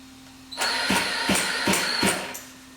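Electric onboard starter cranking a Zenoah G320 gas engine with choke on, four or five loud, rhythmic whirring turnover pulses in quick succession close by, without the engine catching, no talking.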